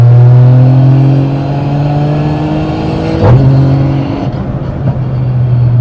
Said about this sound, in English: So once you're full throttle, you can easily just pull back and it shifts.